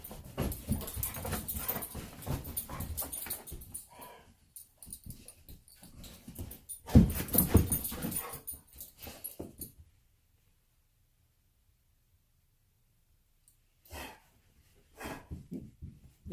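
A pet dog whimpers and pants close by in short, uneven bursts over the first ten seconds, goes quiet for several seconds, then gives a few more brief whimpers near the end.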